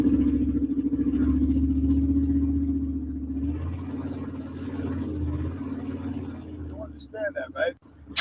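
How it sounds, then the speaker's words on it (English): A loud truck engine idles with a steady low rumble close by, easing off partway through, before brief sharp sounds near the end. "his truck is so loud that we can't possibly hear him"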